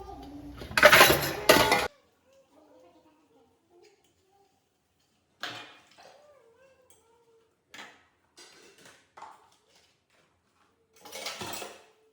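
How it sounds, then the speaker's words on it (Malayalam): Dishes, pots and cutlery from curry cooking are handled and washed in a kitchen sink, with a loud clattering burst at the start followed by sparse, quieter clinks and knocks separated by silence. "കുറേ പാത്രങ്ങളുണ്ട്, കറി ഉണ്ടാക്കിയതിൻ്റെ പാത്രങ്ങളും ഒക്കെ ഉണ്ട് കേട്ടോ. അപ്പോൾ അതൊക്കെ കഴുകി റെഡിയാക്കി വെക്കട്ടെ."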